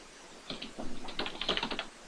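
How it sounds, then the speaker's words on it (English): Quick, light keystrokes patter on a computer keyboard in a short uneven burst, close and fairly soft, with no voices. "let's just type"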